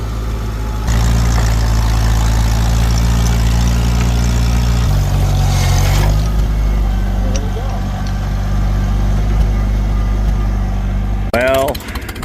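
An old F20 tractor engine runs at a plow day, a loud, steady low throb with a strong rhythmic idle that shifts pitch slightly partway through, and a sharp squeal near the end.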